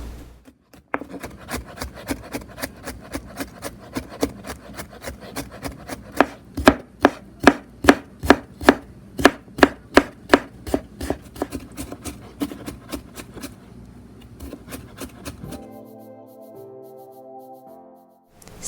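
Ginger and garlic minced with a knife on a board, a fast run of sharp, evenly spaced chops that quicken and thin out toward the end, close and alone.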